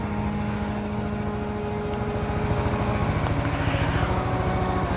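A warmed-up BMW G310 motorcycle engine idles steadily close by, a continuous low, rhythmic single-cylinder thrum with a slight rise in intensity partway through, and no voices.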